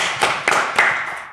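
A studio audience at a startup pitch show gives a short round of applause, a few sharp bursts of clapping close by that fade out quickly within about a second.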